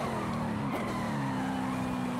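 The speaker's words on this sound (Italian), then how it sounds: "Anche in quarta slitta" A car skidding in Forza Horizon 5 while running in fourth gear, loud engine roar with a tire squeal sliding over it, close and continuous.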